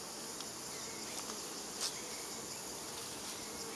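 A steady, dense buzzing of many honeybees close by at an open hive with brood frames, an even drone with no talking.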